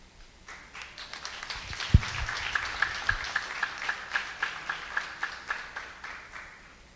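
Applause from an audience at a university opening ceremony, a steady wash of many hands clapping that swells and carries on for several seconds, with a few sharper rhythmic claps standing out near the front.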